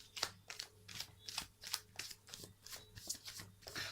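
Tarot cards are shuffled in a quick riffling rhythm, with repeated soft flutters and crisp snaps close to the microphone and no voices.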